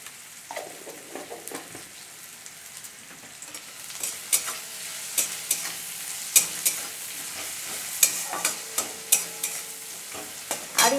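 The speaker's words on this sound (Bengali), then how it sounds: "পেঁয়াজটা যাতে তাড়াতাড়ি ভাজা হয়ে যায়, এই জন্য আমি স্বাদ মতো লবণ দিয়ে দিচ্ছি।" Chopped onion fries with salt in hot oil for eggplant bharta, a soft steady sizzle broken by sharp scraping clicks and taps of a spatula stirring the pan, quiet at first and busier toward the end.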